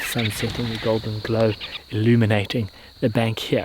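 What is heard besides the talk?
crickets and riverine insects at dusk by a river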